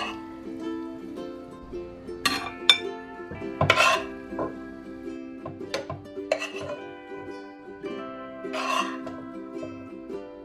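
Serving a Chinese-style meat and broccoli dish at home: pots, plates and cutlery clink and scrape in scattered, sharp metallic knocks and rings over a steady background hum, with brief talk.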